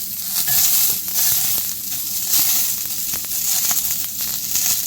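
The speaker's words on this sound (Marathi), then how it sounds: "आता आपण कांदा घालून घेऊयात" Onion sizzles in hot oil in a pan for misal, a close, dense crackle with scattered sharper pops and light stirring scrapes, steady throughout and without speech.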